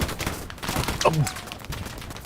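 Gunfire from a Hell Let Loose trench battle, a short scatter of shots and bursts landing under a talking voice, moderately loud and briefly dense.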